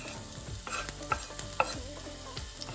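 Chili peppers frying in oil in a heated pan make a quiet, steady sizzle, with clinking and scraping of stirring utensils in short irregular bursts, no voices.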